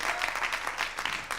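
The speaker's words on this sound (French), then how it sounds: "On peut encore les applaudir parce qu'ils ont sué pour vous sous le projecteur" An audience applauds dancers from the Swiss sport dance federation, dense lively clapping filling the hall without pause.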